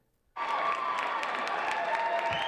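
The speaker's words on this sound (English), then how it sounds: "Applause filled the gym at South Cache Middle School" Applause and cheering erupt suddenly in a middle school gym after a youth jump rope performance, a loud sustained burst of many clapping hands and young voices after a short silence.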